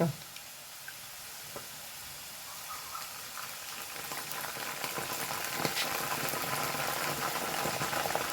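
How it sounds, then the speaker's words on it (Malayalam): Jackfruit chips fry in hot oil as salt water is sprinkled in, the quiet bubbling rising to a denser, stronger crackling sizzle, with a few light ticks and taps from the pan. "ഇതിലേക്ക് കുറച്ച് ഉപ്പുവെള്ളം തളിച്ചു കൊടുക്കാം"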